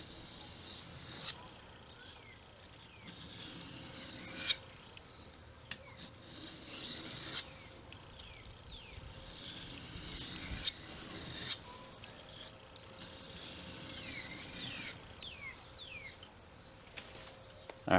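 A fillet knife blade is drawn repeatedly across an oiled sharpening stone, a steady close rasping scrape in long regular strokes with brief pauses between passes.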